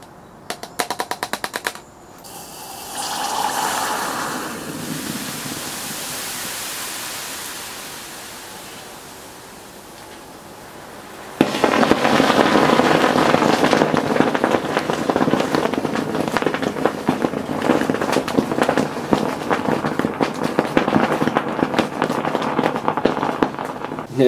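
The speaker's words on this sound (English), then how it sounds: "amazing how it burst into flame after it had reacted already" Calcium hypochlorite pool chlorine reacting with household glycerin bursts into flame, giving a sharp crackle and then a steady roar. A dense, loud hissing crackle runs on for over ten seconds after a quieter buildup.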